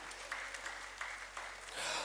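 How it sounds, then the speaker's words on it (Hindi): Brief applause from an audience at a Hindi literary and journalism award ceremony, steady clapping with bursts of speech overlaid and swelling slightly at the end. "एक बार तालियों के साथ अभिनंदन अभिवादन"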